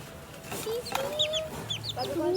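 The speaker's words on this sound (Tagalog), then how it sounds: "Ito yung sisiw guys." Chick chirping close by, a few short high peeping calls in quick bursts over low farmyard background, with soft clucking from a hen.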